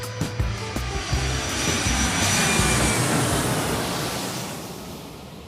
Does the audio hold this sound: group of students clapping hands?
no